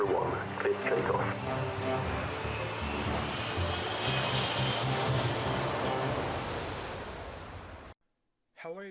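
A simulated airliner engine spools up for takeoff in a flight simulator game, a loud steady roar that builds and holds for several seconds, then cuts off abruptly into silence, followed by a brief voice.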